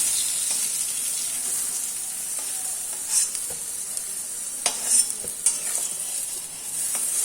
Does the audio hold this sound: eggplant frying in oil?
yes